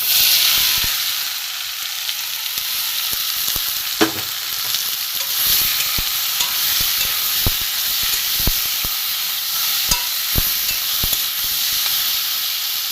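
Marinated soybean chunks frying in tempered spices, a loud steady hissing sizzle with sharp intermittent clicks and taps of a spatula against the pan.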